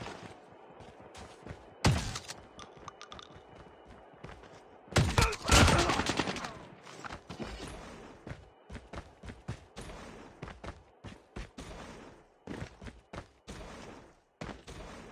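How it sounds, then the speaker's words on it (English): Bursts of gunfire in Call of Duty Mobile battle royale, with sharp loud volleys near 2 and 5–6 seconds and a rapid run of scattered single shots and thuds throughout, no talk over them. "a guy just shot at me right from over here"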